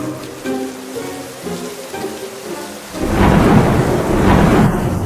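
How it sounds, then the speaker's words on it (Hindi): Simulated rain and thunder over a marine tank with lights off: quiet dripping and patter at first, then a sudden loud rush of heavy rain with rumbling, continuous and close. "मैंने लाइट्स बंद कर दी और बारिश शुरू कर दी।"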